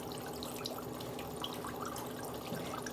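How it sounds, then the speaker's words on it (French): Rinse water flows through the channels of a non-autoclavable endoscope during manual reprocessing, a faint steady trickle and splash with scattered drips, heard quietly up close. "Je vérifie que l'eau de mon premier rinçage arrive bien à la gaine distale de mon appareil."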